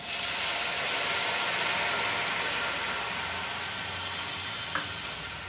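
Mustard paste masala with salt, turmeric and chilli powder frying in a pan for a Bengali chichinga and prawn curry, a steady dense sizzle running throughout with one brief scrape of stirring near the end.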